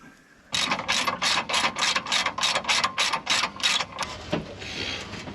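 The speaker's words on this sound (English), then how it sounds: "he's going to tighten up the fan belt" A ratchet clicks through about a dozen quick, even strokes close up while tightening the loose fan belt on an old motorhome, then stops and a faint clunk follows.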